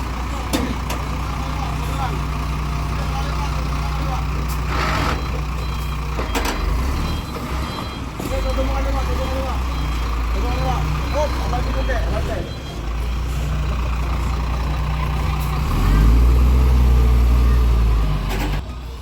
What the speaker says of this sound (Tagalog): So ayan po, bumalik yung truck. Nagmaniobra.